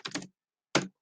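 Two short bursts of computer keyboard keystrokes sound close and crisp, a quick double tap followed after a pause by a single clack, with no voice present.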